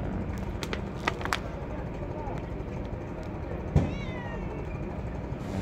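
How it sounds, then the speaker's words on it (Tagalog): A cat meows once, a short faint cry on a rainy afternoon, over a steady background hiss with a few clicks and thumps. "Ang cute yung pusa."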